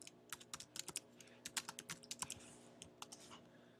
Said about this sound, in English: I'm going to type in Disney World